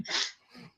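A single close, quiet human sneeze, a sharp breathy burst followed by a softer tail, heard on its own.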